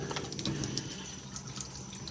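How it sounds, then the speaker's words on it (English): Pomelo leaves are rinsed under running tap water, a steady close hiss of flowing water into a sink with faint splashes throughout. "all I'm gonna do is just rinse it"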